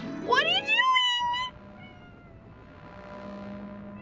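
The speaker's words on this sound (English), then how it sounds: "My cat's meowing at me." A house cat lets out two loud, close meows in quick succession, followed by a quieter stretch of low room noise.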